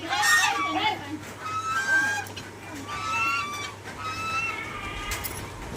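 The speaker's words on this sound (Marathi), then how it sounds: "हा नॉर्थ अमेरिकन भागातील टर्की हा पक्षी आहे" Turkeys clucking and calling with warbling notes over steady low hum at a small farmhouse, with people talking throughout.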